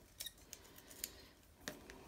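Scissors snip paper edges for a glue journal, four or five short, crisp clicks spaced unevenly across a quiet room, close to the listener with no talking.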